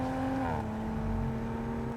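The engine of an Audi RS5 holds a steady, droning note that dips slightly as it settles, sounding close and sustained with no voices over it.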